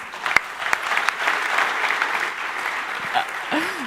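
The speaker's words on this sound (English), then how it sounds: "And a big applause for Adrian." Audience applause fills a startup award ceremony, a dense, steady wash of many hands clapping throughout, with a few sharper claps standing out near the start.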